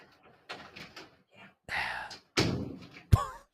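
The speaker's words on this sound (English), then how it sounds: "She slams the fucking door." A door slams shut with one sharp, loud bang near the end, after voices talk and other softer knocks and bumps in a room.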